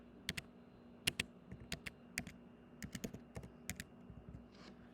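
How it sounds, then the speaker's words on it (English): Quick bursts of keystrokes on a computer keyboard, close and crisp, typed in short uneven runs with brief pauses, over a faint steady hum. "when you type in baseball, I'll do it here"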